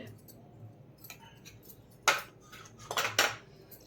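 A metal spoon stirring and clinking against a bowl while maida flour is mixed for baby corn Manchurian, light scattered taps then a few sharper knocks and scrapes, close by and fairly quiet with no voice over it.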